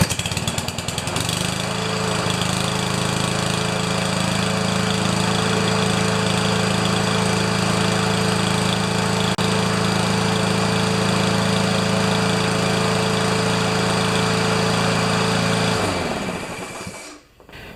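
A repaired Powermore lawn mower engine starts and runs steadily at a loud, close, even drone, then cuts off and winds down at the end.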